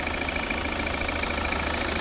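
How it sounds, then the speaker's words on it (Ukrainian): A 2014 Volvo V70 with a 2.0 D4 Euro 6 diesel engine idles with automatic transmission, giving a steady, close, even rumble with a faint ticking knock and a constant whine on top. "Ось двигун, новіший двигун."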